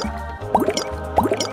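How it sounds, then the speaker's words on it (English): A tiny spittle bug in a children's picture book gives off bubbly popping sounds. Two short bursts of wet, gurgling pops come a moment apart, close and fairly clear over a low steady hum. "Wow, it sounds like popping bubbles."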